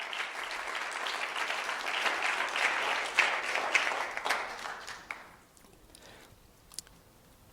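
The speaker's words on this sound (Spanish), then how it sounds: "Fuerte el aplauso a su gloria." A church congregation breaks into loud applause for about five seconds, then it quickly thins out to a few scattered claps and quiet room noise.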